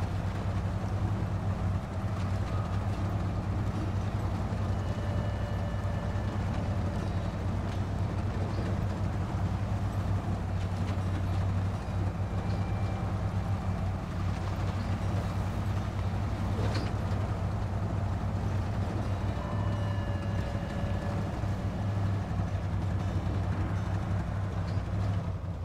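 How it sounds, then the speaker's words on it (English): Ford F-750 truck in SnowRunner pushing through deep water, a steady low engine drone with a constant rumbling wash that holds without a break across the whole stretch, no talking over it. "let's just go straight through it and test this truck out"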